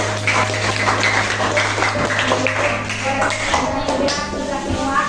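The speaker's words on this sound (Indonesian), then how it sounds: "tepuk tangan untuk semuanya dulu" A classroom of students claps hands together, steady rhythmic patting mixed with tapping and shuffling, as a low hum runs underneath and a teacher's voice talks faintly over it.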